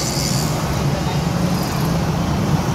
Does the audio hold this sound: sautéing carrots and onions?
no